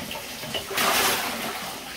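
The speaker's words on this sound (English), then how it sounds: "I like to just fill this up with water and let it drain out." Water filling and then draining out of a Bissell PowerForce Helix vacuum part: a soft trickle, then a sudden louder gushing surge that continues as it drains, close by.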